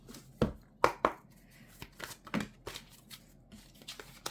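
Tarot cards are shuffled close at hand in soft, irregular riffles and snaps, with a few sharper slaps of the deck and no voices over them.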